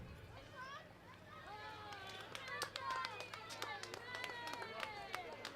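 A stadium crowd at a state track and field championships claps and cheers for girls crossing the line in an under-12 1500m walk final, steady sharp clapping rising midway, with a commentator talking over it.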